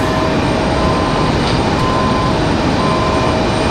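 A JetBlue airliner at Raleigh Durham International spools up for its takeoff roll, producing a loud, steady, broad jet roar that holds constant at a distance with no voices.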